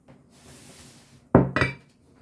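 A baking dish of stuffed eggplants is shifted into place in the kitchen before going into a preheated oven, giving two close, sharp clanks in quick succession after a quiet, faintly rustling lead-in.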